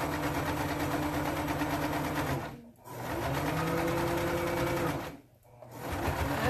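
A sewing machine stitches a waistband on a T-shirt dress, running in steady whirring bursts with two brief pauses between rows, close and clear.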